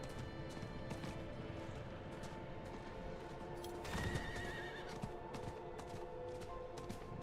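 Horse neighing and galloping in Diablo 4, steady clip-clop hoofbeats running throughout with a loud whinny near the middle over a busy game backdrop.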